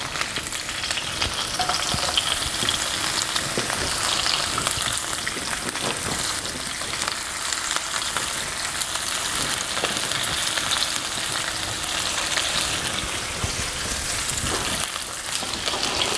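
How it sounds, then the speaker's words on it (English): Loud, continuous sizzling of sliced okra frying in a big hot pan, a dense crackle with occasional stirring scrapes and no voices. "Give that a bit of a stir, sizzle away, and then follow with all of your sliced okra."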